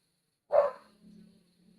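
One short close dog bark followed by a faint low trailing whine, quiet around it, heard outdoors during a live baseball play-by-play.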